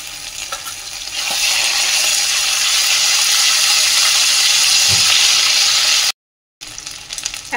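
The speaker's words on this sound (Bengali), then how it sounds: "এর মধ্যে দিয়ে দিচ্ছি আদা বাটা, একটু লবণ দিচ্ছি, নাহলে ছিটকাবে আদাটা।" Ginger paste with a pinch of salt and turmeric sizzles and hisses steadily in hot oil for a pickle made with chillies and yogurt, swelling louder after a second and staying dense and close before a brief cut to silence.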